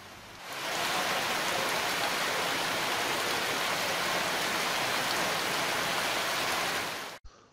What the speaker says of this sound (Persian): بذار صداشو گوش کنم، بذار دو تا روشنی باش حرف هم بزنم.